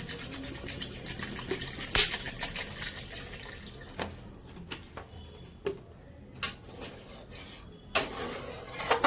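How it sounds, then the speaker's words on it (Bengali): Water is poured into a pan of spice-fried potatoes for chhana kalia, splashing and gurgling at first, then settling into softer bubbling with occasional clatters of the pan. "এবার জল দিয়ে দেবো।"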